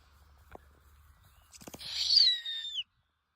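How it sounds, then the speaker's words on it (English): An owl calls once, close and quite loud. A soft hoot rises to a drawn-out, wavering screech, with a few faint clicks and taps before it in an otherwise quiet space. "Cute owl."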